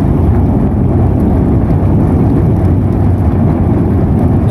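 Vehicle driving into a large high-speed railway tunnel under construction for the Jakarta–Bandung line, a continuous deep, booming roar like a jet engine, loud and echoing, with no voices.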